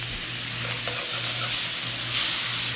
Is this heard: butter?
yes